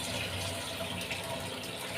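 Water runs steadily from an RO water purifier into a vessel in a home kitchen, a continuous loud gushing flow with no pauses or speech.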